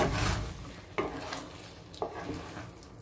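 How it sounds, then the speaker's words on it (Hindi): Cashews with black pepper and cumin powder get stirred in a pan, a faint dry hiss with two distinct scrapes of a spoon about a second apart. "अब इन्हें मिक्स कर देते हैं।"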